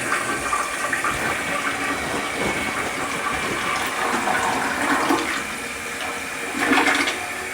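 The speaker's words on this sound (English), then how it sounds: "Give her a flush." Toilet flushing right after a new wax seal was installed: a steady rushing swirl of water lasting several seconds, with a louder gurgling surge near the end as the bowl drains and refills.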